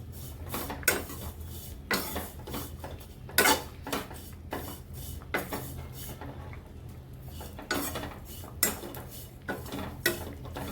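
Dried prawns dry-roast in a pan, heard as quiet, intermittent scrapes and sharp clicks of a spatula against the metal, spaced a second or two apart over a soft, low background hum.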